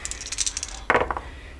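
A few dice rolled for a lore check in a tabletop samurai game: a brief clatter of light tumbling rattles followed by a sharper cluster of hits as the dice settle, close and alone.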